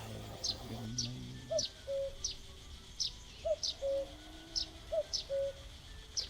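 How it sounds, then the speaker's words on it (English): Sparrows in the video game The Night of the Rabbit chirp in short, bright repeated calls at a steady rhythm, joined by soft cooing notes, with no talk over them. "Sparrows are pining."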